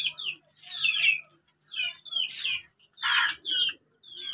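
Pigeons in a breeding setup, including a resting female, give short high chirping calls in bursts with brief pauses, close by and fairly clear, with no talk.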